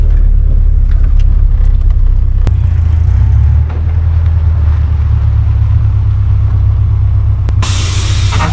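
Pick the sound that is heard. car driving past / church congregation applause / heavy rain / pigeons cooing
car driving past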